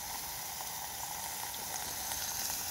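Too much bacon crammed into a small camping mess tin, frying with a steady, dense crackling sizzle that holds close and even from start to finish.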